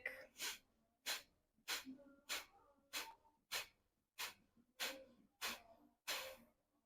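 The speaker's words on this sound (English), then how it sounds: "Forceful exhale, start pumping that stomach." Sharp, forceful nasal exhales repeat in a steady pumping rhythm during a yoga breathing exercise, about ten short bursts, close and clear with no talking.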